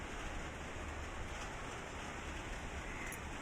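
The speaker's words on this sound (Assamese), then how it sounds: "আজিৰ দিনটোলৈ চাওকচোন ইমান ধুনীয়া বতাহ বৰষুণ" Wind-driven rain falling steadily, a dense continuous hiss with no breaks and no voices.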